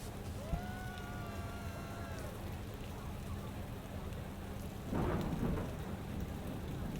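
Steady video-game rain in Parkitect hisses throughout, with a rumble of thunder swelling about two-thirds of the way in; a few faint tonal chirps appear early.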